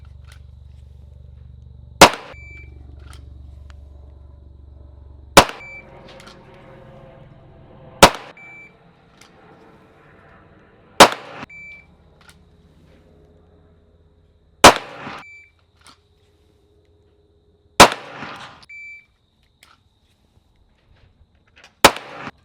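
Sharp single pistol shots on a USMC qualification course, fired with a Sig M18, M&P 2.0 or Glock 19X, about seven loud cracks spaced a few seconds apart with quiet ringing gaps between.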